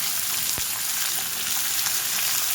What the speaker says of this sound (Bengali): পেঁয়াজটা একটু ভাজা ভাজা করব